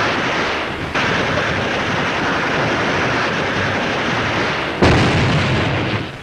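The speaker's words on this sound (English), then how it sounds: "Hand grenades are effective." Hand grenade explosions in a Pacific War battle on the Marianas sound as a dense, continuous roar of blasts and rumbling with a sharp new burst near the end.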